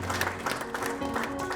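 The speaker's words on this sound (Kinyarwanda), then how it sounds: "mubakomere amashyi." Clapping from a church wedding congregation, a dense steady patter of many hands close by, mixed with a sustained musical tone.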